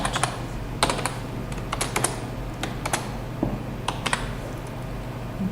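Code is typed on a computer keyboard in uneven clusters of crisp key clicks, with occasional sharper strikes over a steady low hum, close by and with no voices.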